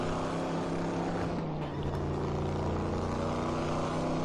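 A racing car's engine drones loudly and steadily in the RaceRoom video game, with a brief dip in the middle as it upshifts, then carries on at high revs.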